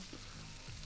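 Steak frying in a pan in the video game Cooking Simulator: a steady, close sizzle with a hum underneath, filling the brief moment without any voice.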